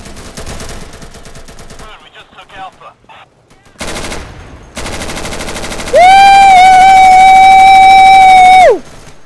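Rapid machine-gun bursts and rocket fire crackle in the Insurgency video game, loud bursts separated by brief gaps, followed by a long sustained rising whine of a rocket or alarm that cuts off abruptly.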